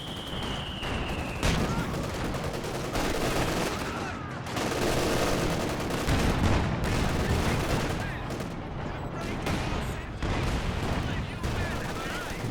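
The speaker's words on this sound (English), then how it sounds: "I heard some explosion over there. Sounded like a mine." In the Company of Heroes 2 video game, a mine explosion goes off amid dense, continuous gunfire, with rattling bursts and booms layered into a loud, unbroken battle din.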